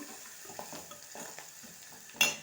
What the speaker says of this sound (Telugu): అందులోనే పసుపు వేసి ఇలా కలిపేసుకోవాలి